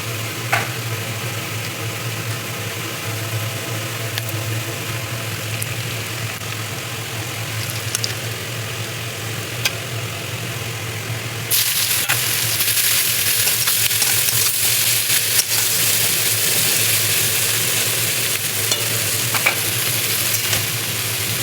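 Bay leaf, cloves, cardamom, cinnamon and chopped onion frying in oil, a steady sizzle that turns louder and brighter partway through, with a low background hum and occasional stirring clicks.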